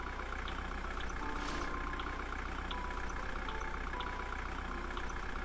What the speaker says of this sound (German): Ich höre ein Auto.